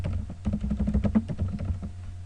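Keys clatter in quick, irregular bursts on a computer keyboard while product photos are being edited for online sales, close and clear with no talk.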